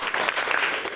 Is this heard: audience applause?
yes